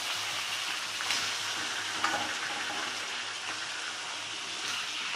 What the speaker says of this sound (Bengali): এবার আমি কষাতে থাকবো